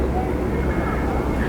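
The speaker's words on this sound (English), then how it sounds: "That's an airplane pulling that sign." A banner-towing airplane flies overhead along the Atlantic City, New Jersey boardwalk, a steady low engine drone with a constant rumble throughout the short stretch.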